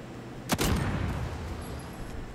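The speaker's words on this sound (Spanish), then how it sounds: "Wey, ya yo escucho disparos." Gunfire from the multiplayer shooter game Call of Duty: Modern Warfare, a sharp burst of shots around the half-second mark followed by a fainter rattling tail and distant game ambience, with no talking.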